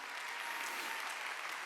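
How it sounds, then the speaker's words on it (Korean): A church congregation applauds during a Thanksgiving worship service. The clapping is dense and continuous, heard at a distance and fairly faint, and it fills the whole brief moment. "박수로 하나님께 영광을 드려요"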